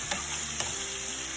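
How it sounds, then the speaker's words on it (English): Garlic, ginger and herbs sauté in a hot pan, giving a quiet, steady sizzle with a couple of brief stirring clicks and no talking. "Just listen to that sizzle."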